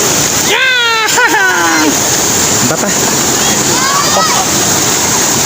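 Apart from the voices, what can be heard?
river water splashing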